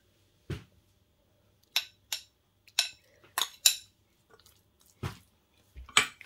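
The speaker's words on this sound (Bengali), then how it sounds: "এখন আমি এই যে থেতলানো যে পেঁয়াজটা আছে সেটা আমি এখানে মিশিয়ে ফেলবো।" Mashed onion is worked by hand into a broccoli mash, heard as sparse, close, wet squishes and soft slaps spaced a second or so apart, with quiet pauses between.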